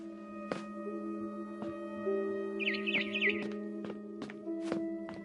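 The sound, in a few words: bird chirping outside a window in a video game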